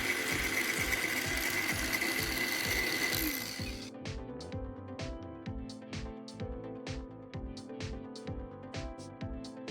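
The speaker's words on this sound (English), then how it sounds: "I use a cutting tool to create a shallow groove along the marked line." Cutting tool carving a shallow groove into a copper pipe handle, a rapid rhythmic mechanical chatter, denser and louder at first, then a steady series of distinct clicking strokes.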